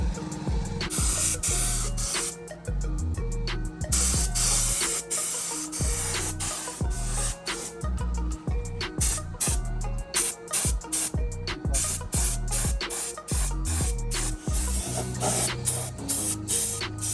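A spray gun hisses in repeated bursts while painting a car bumper, short pulses starting and stopping in a steady rhythm, close and loud, with clattering thumps underneath.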